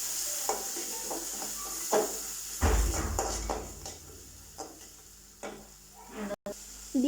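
Garlic and cumin paste frying in a pan for a fish curry, stirred with a utensil that scrapes and clacks against the pan in irregular bursts over a low sizzle.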